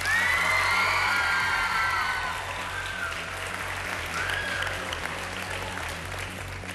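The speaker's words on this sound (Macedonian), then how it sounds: "И друго не треба што да се додаде освен аплауз и за Виктор." Studio audience on a televised singing competition applauding and cheering for a contestant, loud at first with whoops and shouts, then settling into steadier clapping.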